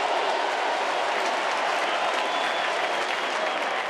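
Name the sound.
crowd applause at baseball stadium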